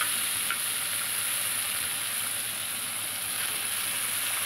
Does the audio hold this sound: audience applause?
no